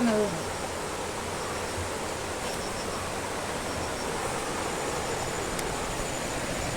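Rushing water pours steadily down Aruvikkuthu waterfall, a dense, continuous roar that stays even and unbroken from start to finish.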